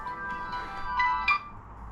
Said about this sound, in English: Oh, this is Land Rover ringing me.